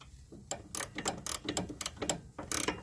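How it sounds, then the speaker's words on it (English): A ratchet backs off the nut on a front sway bar link of a 2006 Ford Escape, giving a quick series of close, sharp metallic clicks in uneven bursts over a few seconds, with no voices. "Use that as leverage and just ratchet off that nut."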